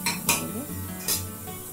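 A spoon scrapes and clinks against a pan while small pieces of chicken are stirred for chicken soup, with several sharp metallic scrapes spaced through the clip, close and clear with no talking.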